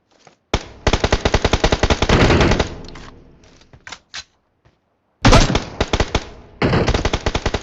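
Rapid bursts of automatic gunfire in the BGMI battle game crack out loud and close while peeking from cover, with a pause holding a few single shots before another run of rapid fire.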